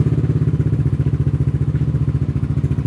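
A motorcycle engine, freshly dosed with a premium gas treatment, runs at a steady, smooth idle just after starting, its low, even putter pulsing rhythmically and close by with no talking.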